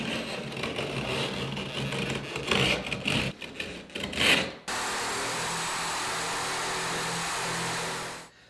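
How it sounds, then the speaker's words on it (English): Utility knife slicing drywall back flush with a wall stud during a door jamb installation: about four seconds of irregular scraping, rasping cuts, close and fairly loud, then a steady broadband hiss takes over until the end. "We're going to take our knife and cut this back so that the drywall is flush with the stud"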